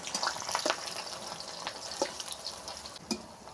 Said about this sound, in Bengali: গরম তেলের মধ্যে কুচি কুচি পেঁয়াজ দিয়ে দিচ্ছি, আর তেজপাতা।